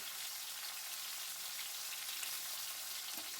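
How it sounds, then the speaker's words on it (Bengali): Chopped tomatoes sizzle and fry in a pan while being stirred, cooking for a Bengali banana flower (mocha) dish; a steady, close, hissing sizzle continues throughout with no talking. "ব্যাস এইভাবে দিয়ে নাড়তে থাকবো টমেটোটা যাতে একটু নরম হয়ে যায়"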